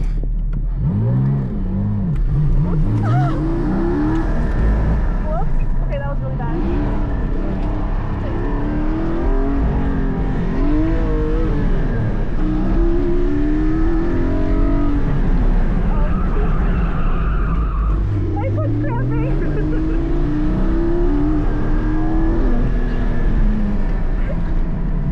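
A car tears around an autocross course, its engine repeatedly revving high, bouncing off the rev limiter and swooping between gears with tire noise, heard loudly from inside with occasional talk.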